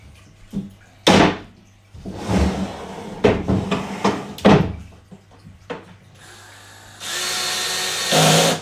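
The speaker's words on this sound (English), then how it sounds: "press down on the board while screwing them in" Model railway baseboard panels being screwed together with a power drill: several short whirring bursts of the driver between knocks and handling thumps on the wood, close and loud, ending in a longer sustained run.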